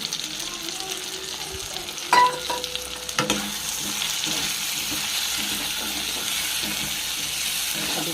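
Spices fry in a pan while being stirred, a soft continuous sizzle running throughout with a couple of sharper clanks and scrapes near the start, close but fairly quiet.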